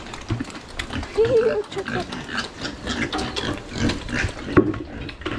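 Pigs being fed soybean pulp, grunting and slurping close by with splashing sounds, while someone talks over them.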